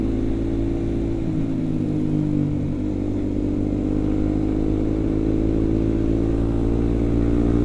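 A sport motorcycle, a small-displacement DOHC bike being ridden alongside Baby RR and XSR machines, rises steadily in pitch as it accelerates, a loud continuous engine drone close up with no talking.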